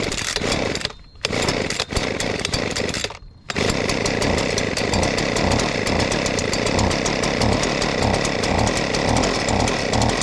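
Husqvarna 125B leaf blower with a newly replaced carburetor, its two-stroke engine running loud and close, stuttering with two brief dropouts early before settling into a steady high-revving whine.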